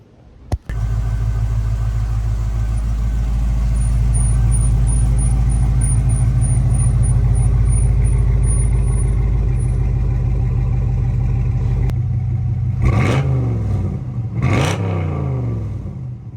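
A Pontiac GTO idles with a deep, steady rumble close by, loud and continuous, then revs twice near the end in two quick rising bursts; a high chirping tone flickers faintly midway.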